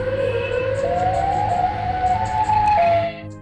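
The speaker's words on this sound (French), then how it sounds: "la sirène de Siren Head a retenti" A wailing siren from the Siren Head creature in a cartoon-style horror piece, one long tone rising and falling gently before cutting off near the end, loud and alone.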